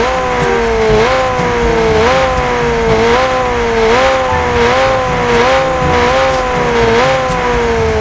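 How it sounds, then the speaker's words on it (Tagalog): A McLaren Senna with its stock engine in a video game revs repeatedly, the loud engine note rising and dipping in a regular rhythm of gear-like steps, close and dominant throughout. "So ganito pala yung tunog ng stock na makina niya."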